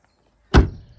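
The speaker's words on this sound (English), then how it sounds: "with the Just Send It personalised solid door bushings, now they're fitted and adjusted, this door sounds different." A Mazda MX-5 door fitted with solid door bushings swings shut in a single firm, close thump with a short fading tail, heard alone against quiet surroundings.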